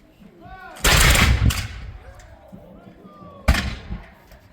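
Muskets fire in volleys at a Battle of Bound Brook reenactment in New Jersey, with two loud, sharp ragged blasts echoing outdoors and people talking faintly around them.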